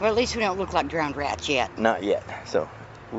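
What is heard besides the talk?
No everyday noises stand out.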